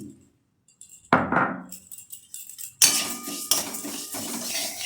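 A hot pan clinks and scrapes as moong dal is dry-roasted, with sharp metallic knocks of a utensil against the pan coming in irregular bursts after a quiet start.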